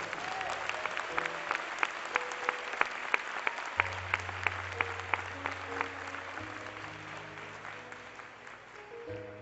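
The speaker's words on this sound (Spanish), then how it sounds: "Otro aplauso entonces al Señor." A church congregation claps in a steady, rhythmic beat during a Spanish-language worship service, with sustained keyboard notes holding underneath as the applause gradually softens.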